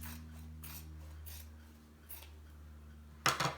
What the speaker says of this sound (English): just cut your fabric in strips